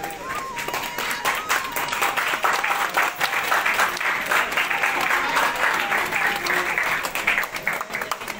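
Sustained audience applause fills a hall at an honorary membership ceremony in Qatar, many hands clapping steadily and densely for the whole stretch at a moderate level, with faint voices mixed underneath.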